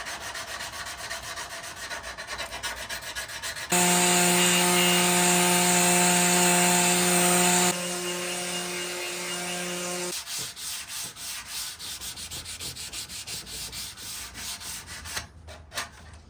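Sanding and rubbing along the edges of a wooden bench swing, a steady abrasive scrubbing that runs throughout, with a louder, harsher stretch in the middle before easing back to a softer, continuous rub.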